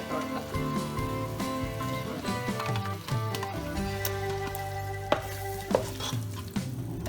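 Egg biryani masala with yogurt just added, stirred in a pan with a continuous sizzle and spoon scrapes, while music plays steadily underneath.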